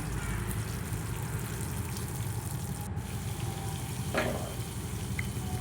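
Pirandai (adder's creeper) and other ingredients for a pirandai kulambu sautéing in a pan, giving a steady, close, low sizzle with faint stirring scrapes throughout.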